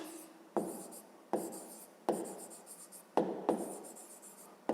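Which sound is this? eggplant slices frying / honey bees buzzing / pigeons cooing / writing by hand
writing by hand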